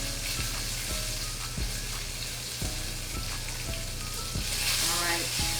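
A New York strip steak sears in a hot pan, giving a continuous bright sizzle with periodic heavier thumps and scraping sounds, close up and steady, swelling slightly louder near the end, with no speech.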